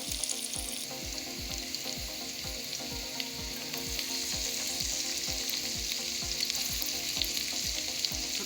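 Onion and spring onion sizzle steadily in a pan for fried rice with eggs and vegetables, a dense continuous frying hiss with rhythmic low scraping strokes from stirring throughout, close and unbroken.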